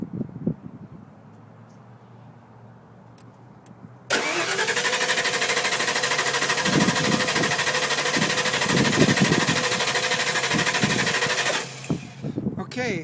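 A car engine, hooked to a Sun VAT-40 starter and battery tester, cranks over loudly and catches into a steady idle for about seven seconds before cutting off, after a quieter stretch of low background hum.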